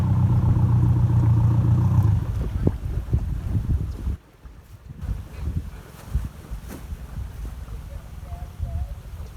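A speedboat runs across water on a trip to a riverside temple in Thailand, its engine loud and steady at first, then easing off into wind buffeting and water noise.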